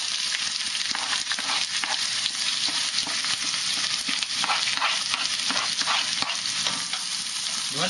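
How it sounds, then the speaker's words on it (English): Onions sautéing in a hot wok for Vietnamese-style fried rice, a bright continuous sizzle with irregular scraping and stirring clatters from a utensil, close and steady with no talking. "You want to saute the onions first"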